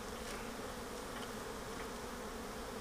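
Honey bees buzz in a dense, continuous drone during a beehive inspection. The hum is steady and close, with no talk over it.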